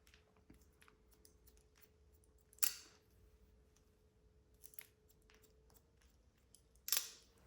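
Hair scissors point-cutting straight down into a pixie haircut, giving a few faint, sparse snips with two sharper crisp cuts standing out against a quiet room hum, no talking.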